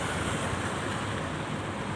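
Water fountain splashing in front of a shopping mall in Malaysia, a continuous broad hiss of falling water, fairly soft and even, with no talk.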